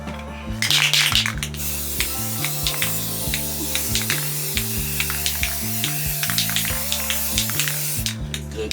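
A spray gun applies clear coat to a Chevy Silverado with a steady, close hiss. A regular pulsing beat runs beneath it, and the spray bursts louder at the start and end.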